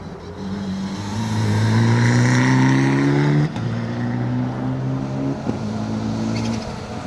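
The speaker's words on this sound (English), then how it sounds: "Sam Gendy having a good push in the Evo, and the Mitsubishi Colt following through, flames licking that back bumper." Rally cars at Donington, a Mitsubishi Evo and a Mitsubishi Colt, race past loud and close, with engines droning in rising gear pulls, a shift or two, and a steady motor roar throughout.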